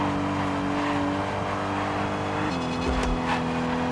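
Rally racing video game car engine with off-road driving, a steady loud droning engine note holding at one pitch, then dropping to a lower gear partway through, with brief scrabbling bursts near the end and no talk.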